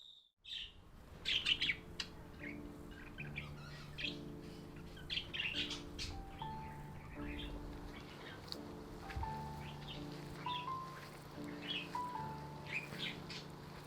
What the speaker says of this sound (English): It's morning, and they are full of energy, excited and chirpy